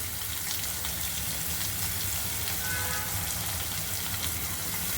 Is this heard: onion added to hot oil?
yes